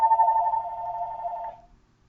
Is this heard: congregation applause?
no